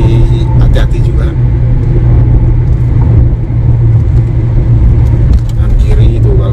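A speeding bus passes on a toll road, a loud, continuous engine and tyre rumble with brief surges, while a voice talks over it.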